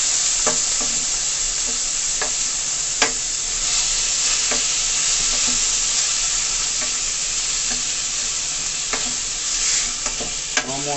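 Vegetables sauté in a pan with a light pinch of salt, a steady close sizzle running throughout while a utensil scrapes and taps against the pan at irregular intervals; no voices.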